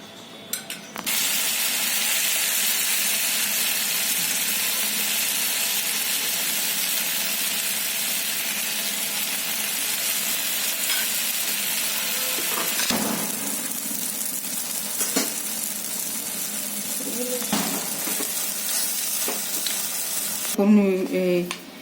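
Jowar flour dhirde frying in oil on a pan give a loud, continuous sizzle and hiss that runs nearly unbroken, with a few scraping and tapping sounds near the end and no voices.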